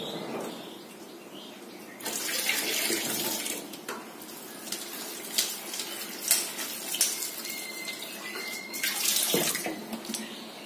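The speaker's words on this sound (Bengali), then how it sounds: "সবজিটা একটু চটকে চটকে ধুয়ে নেবো" Running tap water splashes steadily in a sink while boiled vegetables are squeezed and rinsed by hand, with irregular sloshes and light clinks over a continuous close stream, no talking.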